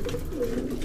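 Low, muffled cooing from young pigeons in their loft, a brief steady burble heard up close without speech.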